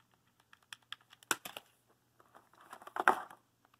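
Close, quiet plastic clicks from pressing the buttons of a Retro-Bit Sega Saturn USB controller, scattered single taps followed by two quick clusters of rapid presses.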